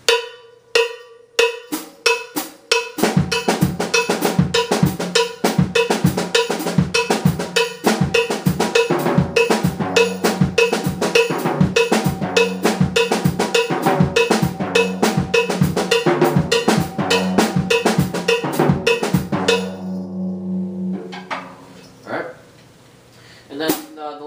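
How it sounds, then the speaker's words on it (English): An Afro-Cuban Songo rhythm in cut time, with a bright cowbell pattern driving steady repeated strikes against a snare drum groove. The playing is loud and close, runs for about twenty seconds, then stops and gives way to brief softer sounds. "So this rhythm uses cowbell, and it's also in cut time. and it's fairly simple with a neat snare drum pattern going on here"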